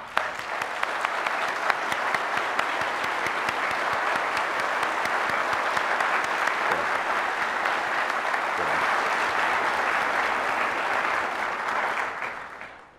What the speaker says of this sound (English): I think that we can clap our hands.